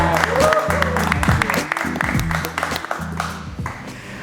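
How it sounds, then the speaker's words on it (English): Audience clapping at a tech meetup floor session welcoming a presenter, a loud burst of many hands close by, with a sustained hum and voices running underneath. "Let's give him a big round of applause."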